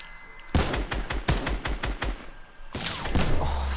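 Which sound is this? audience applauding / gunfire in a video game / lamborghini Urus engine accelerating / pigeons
gunfire in a video game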